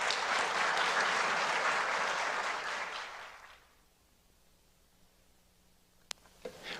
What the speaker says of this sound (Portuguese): para quem eu peço uma salva de palmas